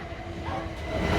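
A train at a station platform on the Chichester line, a steady low rumble and hiss of the rolling stock that builds slightly in loudness toward the end.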